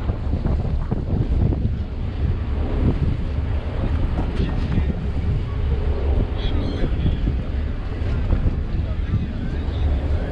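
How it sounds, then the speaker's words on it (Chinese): Wind buffets the bow of a passenger boat crossing from Pattaya to Koh Larn in Thailand, as a steady roar of microphone wind noise over the rumble of the engine and water. "这里吹风。"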